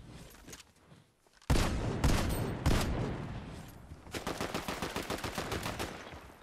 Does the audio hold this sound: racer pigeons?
no